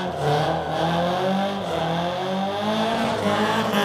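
A Mk2 Escort does a burnout, its engine roaring loud and close while the revs rise and fall in sweeping waves over several seconds under constant tyre squeal.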